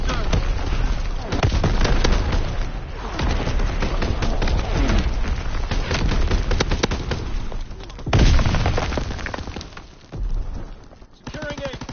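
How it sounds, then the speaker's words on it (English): Enemy artillery fire in the Call of Duty WW2 video game: dense, continuous rumbling barrages and crackling blasts across the whole stretch, with a heavy burst near the end, loud and close amid battle noise. "Incoming enemy artillery."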